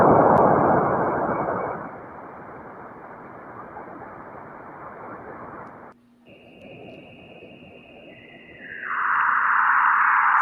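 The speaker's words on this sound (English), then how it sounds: "I swear it sounds like the Forbidden Planet sound effects" Eerie recorded space sounds resembling 1950s sci-fi film effects: a dense hissing wash fades to a steady drone, drops out briefly, then returns as a high sustained electronic whine, alone without talk.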